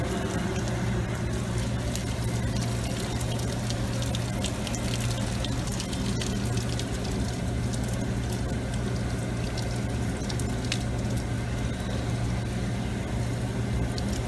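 Water gushes steadily from a cut household water line, a continuous loud rushing and hissing with a low constant hum beneath, unbroken throughout.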